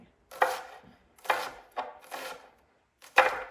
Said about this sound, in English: I'm just gonna make some little slices down here like that, just the size that I want.